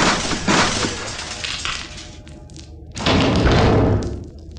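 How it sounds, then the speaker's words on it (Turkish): Two heavy blasts from an explosion in the video game Max Payne, each a loud, broad crash with shattering debris, the second following about three seconds after the first. "Ve patlama oldu."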